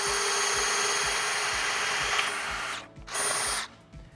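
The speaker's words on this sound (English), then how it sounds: "drill out the marked holes with a 7/16 drill bit" A power drill fitted with a 7/16 spade bit bores holes in a watercraft ramp dock edge, a steady loud whine that drops out briefly and then restarts before stopping.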